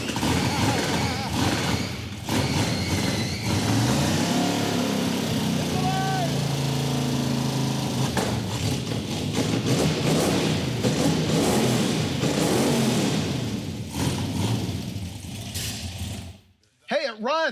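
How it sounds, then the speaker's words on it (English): A loud 426 Hemi V8 engine with side exhaust rumbles and runs continuously with rough, uneven power, voices talking over it, before cutting out near the end. "it runs. It's loud. It sounds weird. It's all side exhaust."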